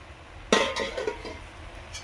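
A metal lid comes off a cooking pot of simmering Malabar spinach with a sharp clatter, then a few brief scrapes and clinks as it settles, close by over a quiet kitchen background.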